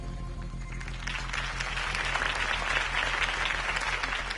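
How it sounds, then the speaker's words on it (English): Sustained applause from a crowd in the video game Batman: The Telltale Series, a dense wash of clapping that swells slightly after the first second and continues steadily throughout. "If only Mr. Wayne, my campaign's largest backer, could have heard that applause"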